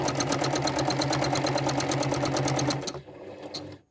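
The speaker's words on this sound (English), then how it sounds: "put the machine going, stitch to the point and stop" Sewing machine stitching continuous curves on a quilt, a steady rapid needle rhythm running close and loud for about three seconds before stopping, followed by faint handling noises.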